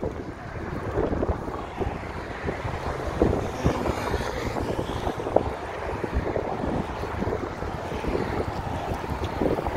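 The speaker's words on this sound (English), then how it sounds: "A little bit windy, hopefully you can hear me." Gusty wind buffets the microphone outdoors on a breezy day by the beach in downtown Chicago, a steady loud rumble that fills the whole stretch with no voices.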